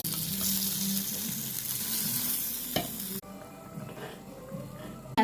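Ingredients roast and sizzle in a pan for a Marathi home-style dinner, with a steady frying hiss and occasional stirring scrapes that quiet down partway through, ending on a brief clatter.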